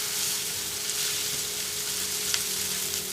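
Onions sauté with ginger garlic paste in a pan for a Kerala chicken varattiyathu, giving a steady, close hiss of frying with a faint low hum beneath.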